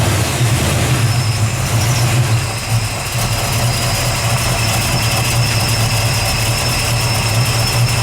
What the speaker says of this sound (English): Let me listen to that idle.